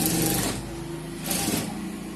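Sewing machine stitching a shirt seam, a steady close whirring run that eases briefly in the middle and then speeds up again, with no talking.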